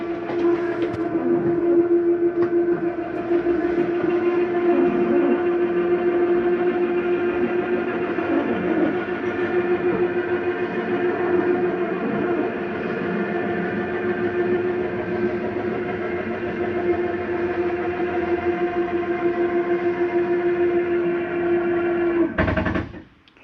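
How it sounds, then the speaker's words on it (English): Slide-out mechanism on a 2022 Jayflight SLX 242BHS travel trailer retracting, a sustained motor whine with a steady tonal hum and grinding texture, running for about twenty seconds before cutting off abruptly. "That noise is just the slide mechanism telling itself not to come in any further."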